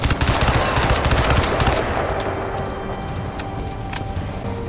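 Rapid automatic gunfire rattles in Crysis 2, a loud dense burst for the first couple of seconds, then trailing off into scattered distant shots and echoing reverb.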